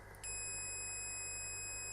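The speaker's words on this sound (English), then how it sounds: "I've got a beep, which means I've got a dead short" Continuity tester checking a vaporizer connector's centre and outer pins, sounding a steady electronic beep for a dead short from crushed rubber insulation; the tone starts after a brief moment and holds constantly to the end, alone with no talk.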